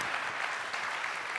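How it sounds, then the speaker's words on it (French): An indoor conference audience applauds, a dense, even patter of clapping that fills the whole brief moment. "je vous demande, s'il vous plaît, d'applaudir Monsieur Thierry Manceau,"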